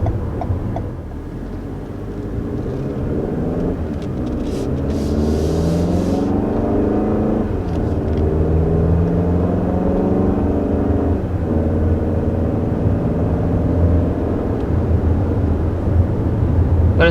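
A 2021 Toyota RAV4's 2.5 liter 4-cylinder engine accelerates toward highway speed, a loud, droning cabin engine note that climbs in pitch through several gear shifts with steady road noise underneath and no talking.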